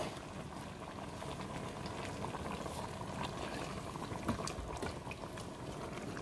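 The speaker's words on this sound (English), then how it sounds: "we're going to add in our can of tomatoes" A can of tomatoes, undrained with all its juice, pours into a Ninja Foodi pot in a steady, wet, gurgling stream that lasts throughout at moderate volume.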